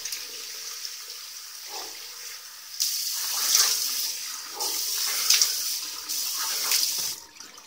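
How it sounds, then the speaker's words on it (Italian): Hot water runs from a tap into a sink for rinsing the face during a menthol wet shave, a steady hissing stream that starts and stops in several bursts, close and fairly quiet. "acqua calda per il viso"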